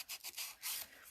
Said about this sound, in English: I go through a lot of these sanding blocks. I do not like rough edges.